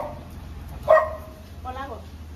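A dog on a road gives a sharp bark followed by a shorter whining yelp, fairly close, over a low steady background hum.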